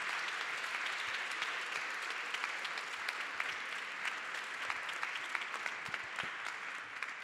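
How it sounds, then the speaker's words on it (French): Steady applause from an audience at an art-and-health competition event, continuous clapping at moderate distance, fairly faint, with no speech over it. "on peut les applaudir encore très très très fort"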